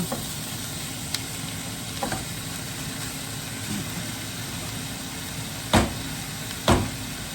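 Chopped hamburger meat sizzles steadily in a frying pan, a constant low hiss with two sharp clanks of a utensil near the end.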